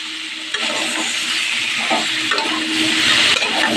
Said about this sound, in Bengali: আবার কড়াইতে সর্ষের তেল দিয়ে 5 ফোড়ন দিয়ে দিয়েছি।